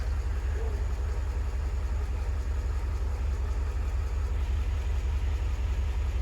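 A Mercedes G 500 (W463) engine idles with a steady low rumble after a muffler swap, even and unchanging, with no other distinct sounds on top.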